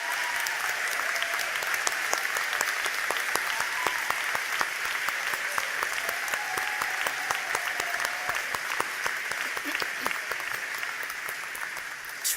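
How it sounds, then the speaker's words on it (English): A commencement crowd applauds standing alumni in a large hall, a steady, even wash of clapping with some sharper individual claps, continuing throughout at moderate level. "please stand up so we can applaud you."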